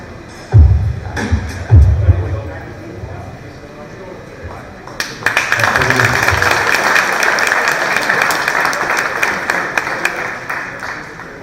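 Audience applause at a pitch competition, starting with a few scattered claps and swelling about halfway through into steady, dense clapping from a crowd.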